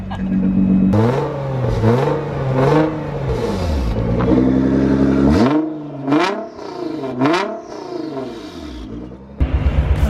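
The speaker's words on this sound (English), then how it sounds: "So with the IPE remote, I'll turn the exhaust on." A factory Nissan Skyline R34 with an IPE exhaust revving repeatedly, each rev rising to a loud roar and falling back, with brief pauses between bursts.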